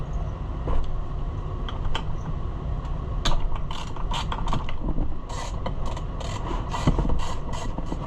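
A socket wrench ratchets nearby as it loosens the muffler bolts on a Homelite Super XL Automatic chainsaw, with repeated quick clicking runs and metallic creaks over a steady background hum; nobody speaks.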